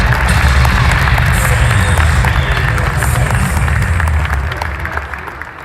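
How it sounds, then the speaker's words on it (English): Crowd applause and cheering fill a high school boys' basketball gym during a Lawton versus Weatherford game, a loud, continuous roar of clapping and babble that holds steady before easing slightly near the end. "So let's give her a round of applause."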